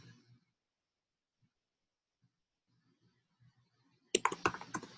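Typing on a computer keyboard while adding a heading to a website page: a dense burst of rapid key clicks that starts near the end, after a few faint isolated taps over a quiet pause.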